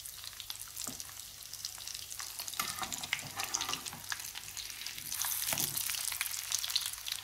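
Dal chicken shami kababs fry gently in a pan over a low flame, giving a steady close sizzle with scattered crackles and occasional scraping stir sounds throughout.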